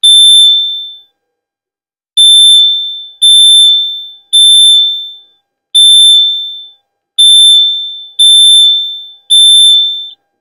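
A CrossFit interval timer buzzer with a capacitor wired in parallel beeps loudly and alone: one long tone, then a steady run of seven shorter, evenly spaced beeps, each with a clipped decay.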